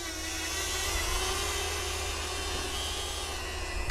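A DJI Flip drone takes off and flies, its propellers giving a steady loud high-pitched whine with a buzzing low hum, constant and close with no talking.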